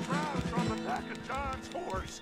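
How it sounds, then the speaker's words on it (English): Horse in Red Dead Redemption 2 neighing and whinnying in agitation with hoofbeats clip-clopping underneath, loud and close, under a voice talking throughout. "John's horse is flipping out."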